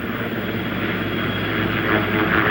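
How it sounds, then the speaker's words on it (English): Presidential helicopter lifting off from the White House south lawn in 1974, a loud steady roar of engine and rotor blades that fills the short stretch without a break. "As the blades swirl over and the helicopter leaves"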